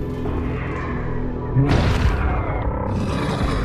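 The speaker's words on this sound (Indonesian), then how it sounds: "Ariane berhasil meledakkan ratu binatang itu dengan granat dan menewaskannya" A grenade blast kills the creature queen in the horror film The Devil Below, a loud broadband boom erupting midway through a dense, rumbling soundtrack and leaving a sustained roaring wash afterward.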